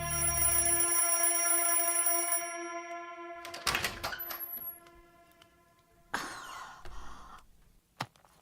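An alarm clock rings loud and continuous with a bright metallic bell tone for about three seconds, then stops; scattered clatter and brief noises follow.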